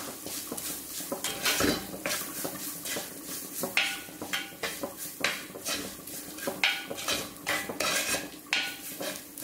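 A spoon stirring grated coconut in a metal pot, with repeated close scraping and clinking strokes in an uneven rhythm.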